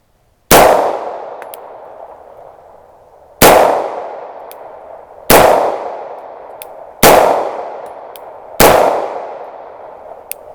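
Five sharp, loud 9mm pistol shots fired with CFE Pistol powder handloads, spaced roughly two seconds apart, each a hard crack with a ringing metallic decay, plus faint ejected-brass tinkles between.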